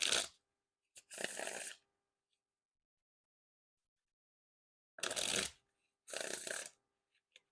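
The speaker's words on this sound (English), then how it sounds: "And now time for the Wiffle Shuffle or Bridge Shuffle" Four quick bursts of thin-stock playing cards being riffle-shuffled, crisp fluttering zips separated by quiet pauses.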